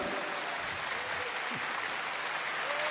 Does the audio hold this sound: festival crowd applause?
yes